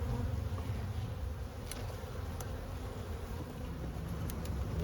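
Honeybees buzzing steadily around an open hive during an inspection, a dense, continuous drone close by with a few sharper passes of individual bees, no voices.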